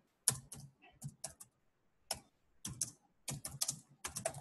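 Someone types on a computer keyboard while entering Java code, in irregular bursts of crisp, close key clicks separated by short pauses, with no voice.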